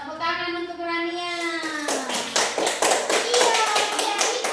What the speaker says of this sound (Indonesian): Tepuk tangan untuk Rania.